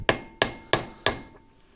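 A light hammer taps the outer race of a rear wheel bearing on a Nissan Micra K12, four sharp metallic strikes at an even, steady rhythm, close and clear, with no talk.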